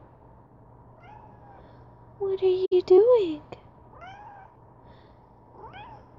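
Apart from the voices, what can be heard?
cat meowing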